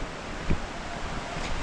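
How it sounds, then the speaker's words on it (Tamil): Agaya Gangai waterfall in the Kolli Hills sends up a steady, broad roar of falling water, mixed with gusty wind buffeting close to the microphone, with no voices. "இதெல்லாம் தாண்டி ஒரு சவுண்டு கேட்குதா ஃபால்ஸ்"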